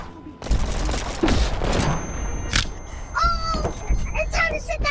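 Gunfire aimed at Godzilla inside the Animal Company video game, rapid shots and booms piling up under excited shouting voices, with sharp chirpy game effects near the end.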